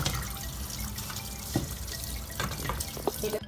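Shrimp being washed under running tap water for an Isan fermented shrimp dish, a steady faint splashing flow with occasional drips and small knocks close by, no talking.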